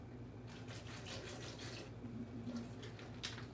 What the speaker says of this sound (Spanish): le vamos a agregar tantita agua